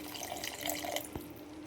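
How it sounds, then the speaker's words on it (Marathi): About half a cup of water pours and splashes briefly into a pan of veg keema, a short soft trickle over a quiet background hiss. "मी नॉर्मल थोडंसं बघा पाणी ओतणार आहे."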